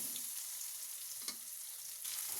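Ginger, green chili and curry leaves frying in hot oil after the mustard seeds have popped, giving a soft, steady sizzle with a couple of brief louder crackles and no talk.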